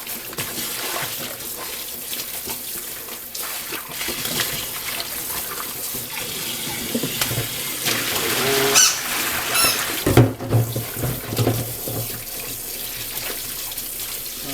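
Goalkeeper gloves rinsed under a running tap in a sink, with a steady close stream of water, splashing and some squeaky rubbing as the gloves are handled.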